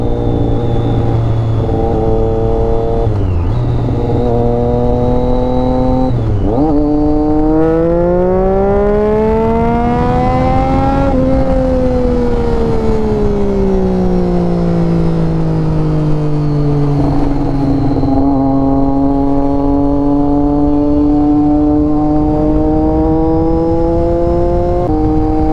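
A Triumph Daytona 675 inline-three motorcycle with a modified exhaust revs steadily and loudly nearby, its engine pitch rising and falling in long sweeps over about twenty-five seconds, with no talk.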